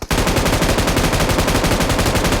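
A close, loud burst of rapid automatic gunfire from a battle royale video game rattles continuously as a single sustained volley.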